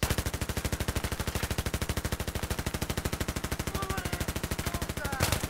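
Sustained suppressive machine-gun fire in Battlefield 3 on the Operation Metro map, a rapid, steady stream of close, loud automatic shots with no pauses, while faint voices sit low underneath.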